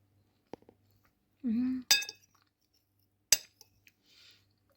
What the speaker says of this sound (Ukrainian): Крекер ще хрумтить.